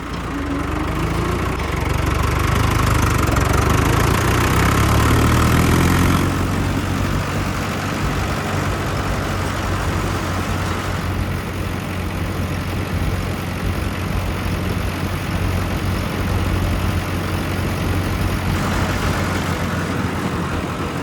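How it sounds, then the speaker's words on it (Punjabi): A loud diesel tractor engine runs steadily throughout after crop spraying, its low rumble shifting in pitch partway as it changes revs, with no voices. "ਹੁਣ ਮੋੜਦੇ ਆ ਟਰੈਕਟਰ"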